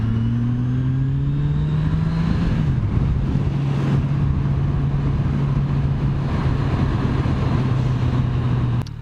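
A 2018 Kawasaki Ninja 1000 motorcycle engine heard while riding, a loud steady drone with a brief dip in pitch as the rider shifts, then holding a constant tone over wind rush.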